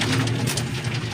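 Racing pigeon breeders cooing steadily at feeding time in a loft, low rhythmic coos repeating close by for the whole moment with no talk over them.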